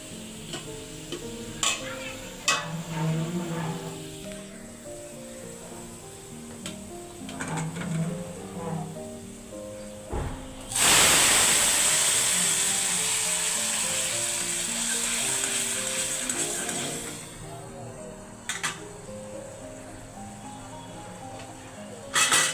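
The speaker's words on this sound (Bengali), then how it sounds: "যে রসুনটা বাদামি কালার হয়ে গেছে এখন আমি আস্তে আস্তে আর একটু কালার করে তারপরে বাদাম দিয়ে দেবো" Garlic browning in oil in a home kitchen pan, with light sizzling and repeated clacks of stirring, then a loud, sustained surge of frying that lasts several seconds before settling back to quiet stirring.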